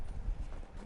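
Hooves clip-clop from a horse in the video game Red Dead Redemption 2. A few close, dull hoofbeats sound in a brief, steady rhythm with no one talking.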